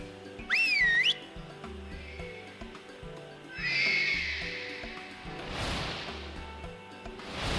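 A rising-and-falling whistle blown to call horses in a video game, followed by a horse's loud whinny and hoof clops over a steady looping music bed.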